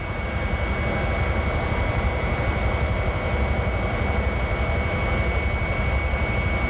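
Broadband roar of Boeing 707 jet engines, a steady loud whine holding evenly throughout without a break, with no voices over it.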